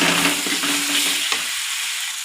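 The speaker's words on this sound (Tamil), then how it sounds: "அதனால் நல்லா வதங்கணும் நல்லா தக்காளி வந்து குலைவாக வரணும்" Tomatoes sauté in a pan for a sardine curry, a dense close sizzle with a few stirring scrapes that fades and thins toward the end, no voices.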